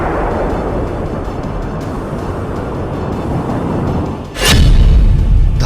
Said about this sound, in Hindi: धमाका नंबर 1